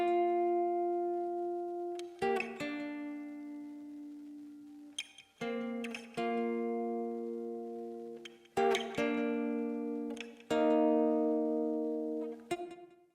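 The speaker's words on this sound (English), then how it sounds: "This next line is chords." Sustained chords played on a Synthstrom Deluge, four or five long harmonic stabs each ringing and slowly decaying before the next chord enters, played alone with no talk.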